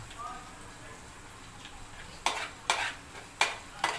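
Curry leaves drop into hot oil for a kilis fish curry, setting off several sharp bursts of sizzling after a quiet stretch of low kitchen background.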